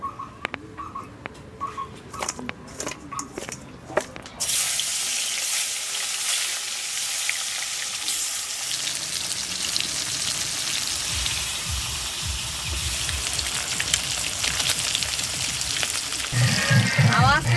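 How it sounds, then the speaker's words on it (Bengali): Large pieces of rohu fish fry in hot mustard oil, the skins crackling and sputtering. After a few quiet seconds of light clatter, a loud, steady sizzle bursts in close by and keeps popping to the end. "বন্ধুরা শুনতে পাচ্ছেন আমি শুনতে পাচ্ছি না আওয়াজে চামড়াগুলো মাঝে মাঝে এত ফুটছে"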